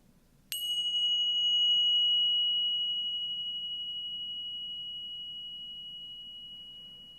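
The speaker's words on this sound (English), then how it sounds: "now follow the sound of the bell" A single meditation bell struck once, a clear bright ring that sustains and slowly fades over several seconds, close and alone over a quiet low hum in a hall.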